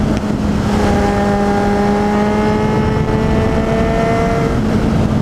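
A Kawasaki Z800e motorcycle accelerates out of a corner, its engine note climbing steadily in pitch as a loud, close, continuous drone with no talk over it.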